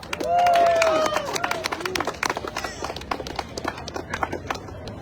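An audience at a community housing meeting clapping for a speaker: sustained applause with a few voices and a whistle, thinning to scattered claps.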